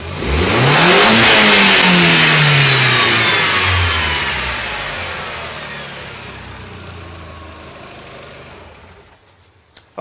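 Car engine revved hard as the throttle opens, rising to a loud peak within a second, then slowly falling back toward idle over several seconds before cutting off.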